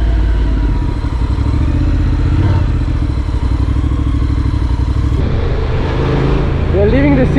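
Motorcycle riding out of a city on a slippery surface with the rear wheel spinning for lack of grip, a loud continuous engine drone with rattling, close throughout.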